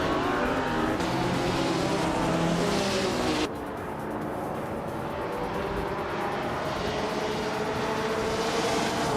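Race cars roaring off the line at a race start, including a classic 1956 Maserati 450S, with loud engine drone and rising revs that drop back briefly before building again into a steady, distant-to-near blare.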